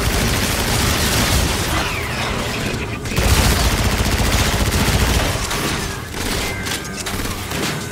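Rapid bursts of gunfire in Call of Duty: Infinite Warfare crackle continuously, dense and loud, with a brief lull before another heavy volley.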